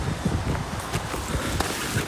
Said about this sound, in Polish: jest taka bardzo pochmurna pogoda, wietrzna pogoda i trochę kropi